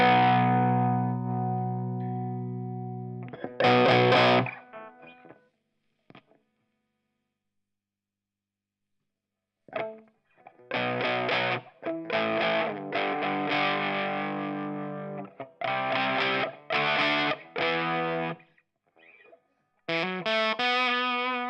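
Electric guitar played through a Dallas Scala tube amp with a distorted, effect-laden tone, in short bursts of notes and chords separated by silences.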